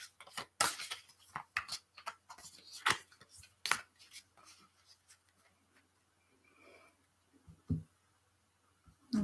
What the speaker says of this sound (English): So I'm going to shuffle my deck again and draw a card for Clarka.